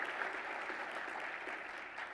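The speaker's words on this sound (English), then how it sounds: "So if you could just give them a round of applause." Quiet, steady applause fills the room at an evening conversation event, an even patter of many hands clapping without a pause and with no speech over it.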